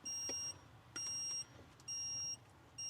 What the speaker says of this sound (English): the beeping is not going to disturb your neighbors as you come out of your garage